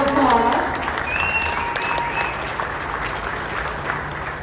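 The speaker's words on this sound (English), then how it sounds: "Big round of applause." Audience at Bally's Las Vegas reopening ceremony applauding, a short burst of clapping loudest at the start and gradually tapering, with a voice briefly heard at the outset.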